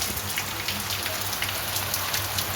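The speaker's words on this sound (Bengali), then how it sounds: "দেখো বাইরে বৃষ্টি হচ্ছে" Soft, even rainfall hisses continuously at a fair distance, a gentle steady patter with a faint low hum underneath and no voices.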